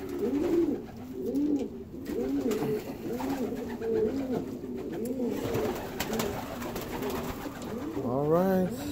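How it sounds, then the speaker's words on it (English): Several pigeons coo close by in repeated soft, throaty rolling calls that overlap into a continuous murmur, with a rising flutter of coos near the end. "I got some more pigeons on the other side"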